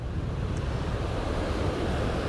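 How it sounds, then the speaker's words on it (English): Strong waves breaking on the beach at Singing Sands on the Isle of Eigg, a constant loud surf roar mixed with wind buffeting the microphone, no voices. "those waves are pretty strong"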